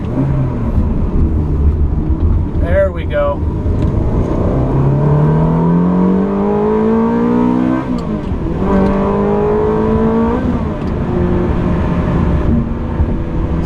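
A 2004 Ferrari 360 Modena with a six-speed manual transmission revs loudly while being driven, its engine note climbing, dropping and climbing again through gear changes. Someone speaks briefly over the engine.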